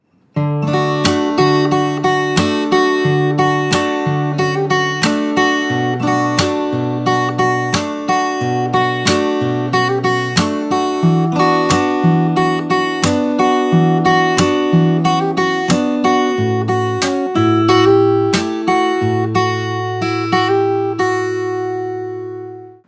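Fingerstyle acoustic guitar plays the chorus of a song, with plucked bass notes under chiming treble notes in a steady rhythm, clear and close, and the last chord rings out at the end.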